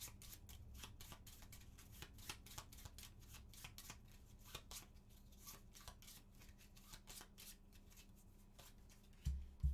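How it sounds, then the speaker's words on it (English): A deck of cards is shuffled during a solo board game, a long run of quick rhythmic riffles and snaps, close and fairly quiet, with no voices. "Echo is going to shuffle here."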